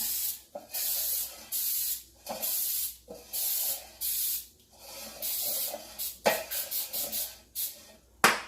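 Cooking spray hisses in repeated bursts as a washed loaf pan is re-greased for banana bread, roughly eight short, close sprays separated by brief pauses, the last few quicker and choppier.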